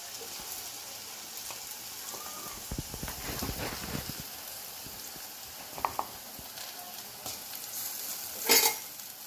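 A spatula stirs and scrapes chal kumro chapor ghonto, an ash gourd dish, in a pan. The scrapes come in irregular bursts over a quiet, low sizzle, with a sharper clatter near the end.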